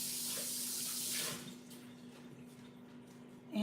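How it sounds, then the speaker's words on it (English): Tap water runs into a kitchen sink while hands are soaked under the stream, a steady broadband hiss that lightens partway through as the flow is interrupted, with a faint constant hum beneath and no talking. "we're just going to put it up here in the sink and just quickly soaking my hands a little bit"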